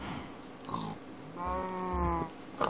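Pig grunts and oinks in Minecraft, several short, close, nasal squeals and snorts in a burst, with faint game sounds between them.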